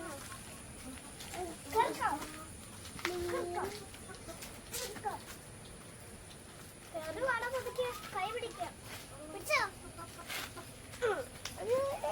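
Chickens cluck intermittently at moderate distance, short clucks and squawks scattered over faint background noise, with people talking quietly nearby.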